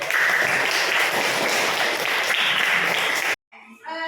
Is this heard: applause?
yes